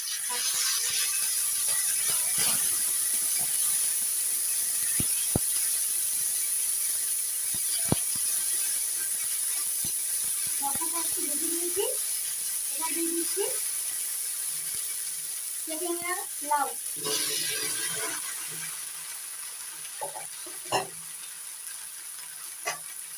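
Torn bay leaf, cumin, coriander and chilli frying together in hot oil, a continuous soft hiss and sizzle with occasional scraping and clinks, and a few brief vocal-like sounds partway through.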